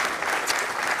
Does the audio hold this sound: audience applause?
yes